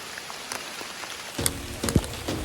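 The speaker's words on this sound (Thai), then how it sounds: "โอ้ฝนตกลงมาทางก็ลื่นเลย" Rain falls steadily on a forest trail during an outdoor photo shoot, a dense patter with a few sharper drops and splashes growing louder in the second half, with no voices.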